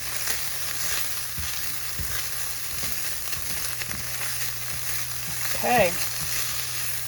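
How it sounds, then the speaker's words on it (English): Ground turkey seasoned with salt and pepper sizzles in a pan, a constant close frying hiss with soft stirring knocks and scrapes, and a brief spoken word partway through. "Just gotta stir."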